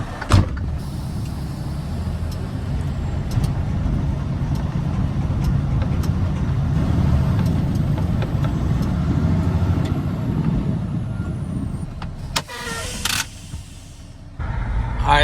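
A pickup truck towing a trailer rumbles along and maneuvers to park, a steady engine drone with clunks and rattles near the end.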